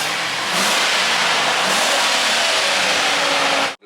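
A Chevrolet Silverado with a 5.3 V8 and a FlowMaster 10 series muffler revving hard, a loud, raspy, sustained roar that stays near full throttle for several seconds before cutting off abruptly, close to the exhaust with no voices.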